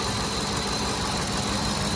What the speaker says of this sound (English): Sounds good? Healthy engine?